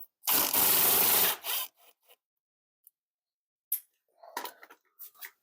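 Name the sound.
removing a screw from a wooden crosscut sled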